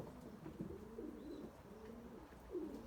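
Pigeons cooing nearby in a Turkish loft, several low, throaty coos repeating in soft rolling phrases over about three seconds, fairly quiet with no voices.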